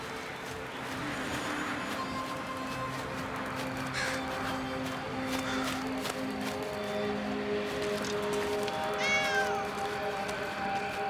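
Cat meowing in the video game Blacktail, a faint rising meow standing out briefly over a continuous game ambience with bird calls and a steady background bed.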